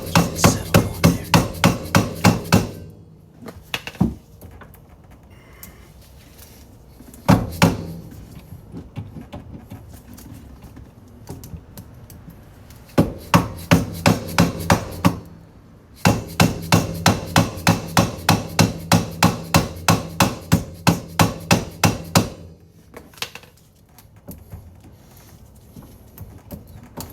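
Hammer taps seat a hub bearing on a 2005 Honda Civic EX: rapid, evenly spaced metallic strikes in several close, loud bursts of a dozen or more blows each, separated by brief pauses, with no talking.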